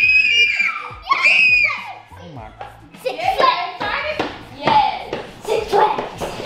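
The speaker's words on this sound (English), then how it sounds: "please don't ever scream like that again" Child screaming loudly in bursts, high shrill shrieks mixed with kids talking, clapping and tapping nearby.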